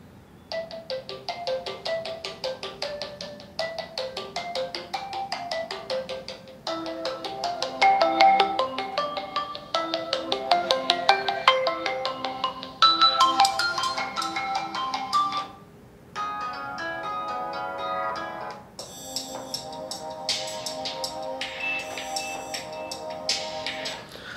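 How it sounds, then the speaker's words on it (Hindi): Several phone ringtones play one after another from the dual speakers of a Qmobile Smart HD Pro smartphone: bright melodic electronic tunes, each a few seconds long, moderately loud and clear with no talking. "यहाँ पर कुछ रिंगटोन्स को चला लेते हैं।"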